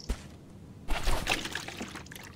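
Water pouring in the video game Reign of Kings: a brief soft splash, then a short, moderately loud rush of trickling liquid that fades out.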